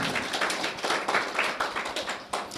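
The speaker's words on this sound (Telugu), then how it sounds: "చప్పట్లు కొట్టి బిగ్గరగా దేవునామాన్ని మహింపడు." A church congregation claps in a fast, steady rhythm, many hands together, dense and moderately loud with no voices standing out.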